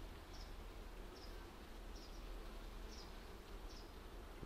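Honeybees drone around an open hive during an inspection, a soft continuous buzz with faint high chirps recurring at roughly even intervals, quiet and distant.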